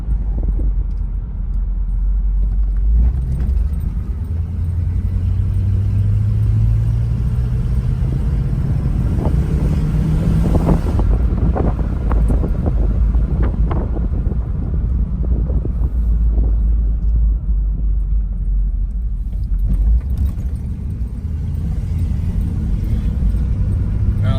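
A 1959 Cadillac Series 62 convertible cruises along, its low engine rumble steady throughout with heavy wind buffeting across the open car and a faint rising tone as it picks up speed.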